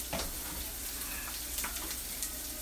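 Onions sizzle steadily on a hot griddle while salt and pepper go on for a chopped cheeseburger sub, a continuous close frying hiss with a few light scrapes and ticks.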